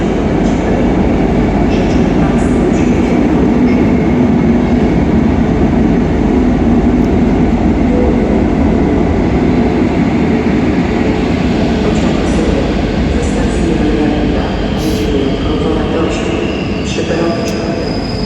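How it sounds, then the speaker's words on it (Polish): A train rumbles steadily and loudly throughout, with a continuous rolling roar and faint higher squeals from the wheels, heard up close. "Pociąg"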